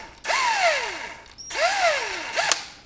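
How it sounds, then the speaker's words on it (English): A power drill boring a hole into a DJI Phantom bearing, in two sustained runs with falling motor whine as it bites into the material and a short burst at the end, loud and close with no talk. "Okay, I'm going to drill another hole."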